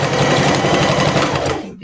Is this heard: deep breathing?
no